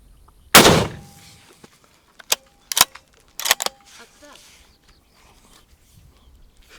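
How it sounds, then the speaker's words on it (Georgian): An Istanbul Silah Monza GA .308 rifle fires one loud, close, sharp shot during a test at a gun shop, followed by several quieter clacks and clicks with no talking. "გასროლა იქნება, საკმაოდ დიდი ხმა აქვს"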